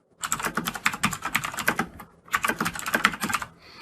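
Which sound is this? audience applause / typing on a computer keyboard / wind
typing on a computer keyboard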